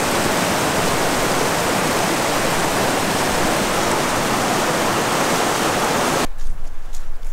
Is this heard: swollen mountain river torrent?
yes